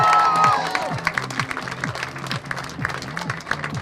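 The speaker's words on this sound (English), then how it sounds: "Make some noise for 69 Dave Jenkins" Crowd at Donington Park race circuit applauding and cheering a second-place podium finisher, sustained clapping and whoops across the whole stretch with a loud, steady wash of sound.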